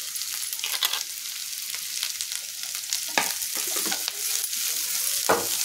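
Grated carrot stir-fried in a pan with torn leftover chapati for chapati noodles: a steady close sizzle with repeated scraping stirs, no talking.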